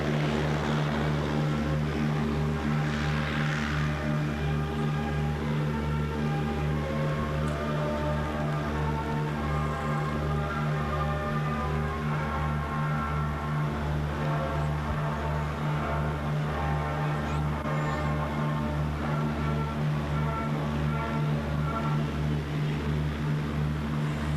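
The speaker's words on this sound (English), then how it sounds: "We can back the airplane up." An E-2C Hawkeye turboprop engine drones steadily at close range as the airplane backs up using reverse propeller thrust, with a pulsing, throbbing hum that holds constant throughout, with no speech.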